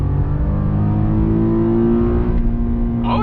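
A GMC Canyon AT4 Off-Road Performance Edition with an 8-speed transmission revs hard in first gear up to 7,000 RPM, its engine note climbing in a loud, sustained, steadily rising whine close by.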